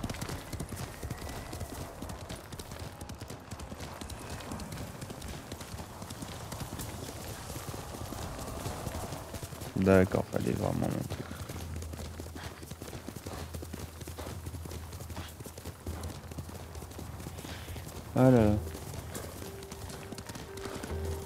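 Rhythmic horse hooves clip-clop steadily throughout in the video game Ghost of Tsushima, with two short whinnies breaking in, while someone talks briefly over the trotting.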